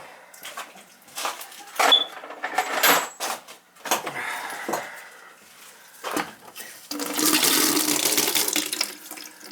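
Bursts of clattering and knocking, then water rushing and splashing out of an old boiler's valve for a couple of seconds near the end.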